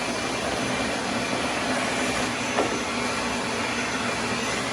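A shop vacuum hose roars steadily and without a break as it sucks mouse-nest debris out of the trunk lid of a 1966 Oldsmobile Toronado barn find, close and even.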